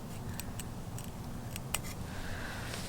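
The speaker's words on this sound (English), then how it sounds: "I'm just gonna cut this a little bit further down than I did the others." Scissors snip at Chinese broccoli stalks in a garden, a handful of small sharp clicks spaced irregularly over a steady outdoor background, faint and close.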